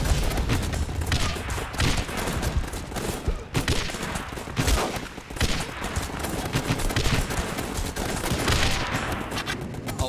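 Dense, continuous gunfire from the GunsUp video game, with rapid cracking shots and heavy booms layered in a loud, chaotic fusillade with no pauses.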